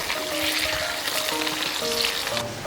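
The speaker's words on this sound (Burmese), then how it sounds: "အာလူးလေးတွေကိုကြော်ပေးရမယ်" Potatoes fry in oil in a pot with a constant, dense sizzle and crackle, loud and close throughout.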